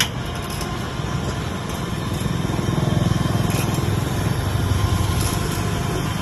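An electric mini forklift rated for 500 kg lowers its load with a steady close mechanical hum and whine that gradually swells and then stays level.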